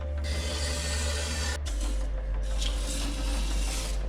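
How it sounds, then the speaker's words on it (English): Cavity wax being sprayed or applied into the body panels of a salvage Mercedes E63 S under rebuild, a steady close hiss with a loud low hum beneath, briefly interrupted midway, no talk. "it is vital we use this cavity wax"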